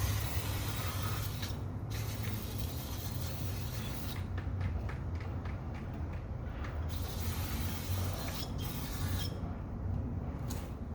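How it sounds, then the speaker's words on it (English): Brake cleaner hisses from an aerosol can onto the front brake parts of a SAAB 9-3 in several short and longer bursts, close by over a steady low background hum. "So, using some brake cleaner here."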